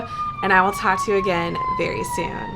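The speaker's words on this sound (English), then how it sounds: "I don't know if you can hear that ambulance in the background" Ambulance siren in the background, a faint steady wail held beneath one person talking close up throughout.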